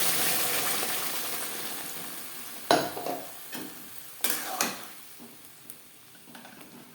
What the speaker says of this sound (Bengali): এবার দিয়ে দেব পেঁয়াজ, রসুন ও টমেটোর পেস্ট।